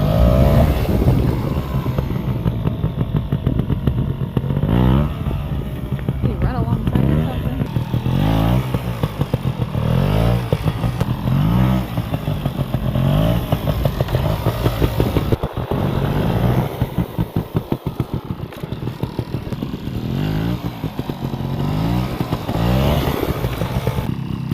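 A trials motorcycle doing wheelies on a wet driveway, its engine revving up and down repeatedly in loud close bursts over a steady idle, with wind buffeting the microphone.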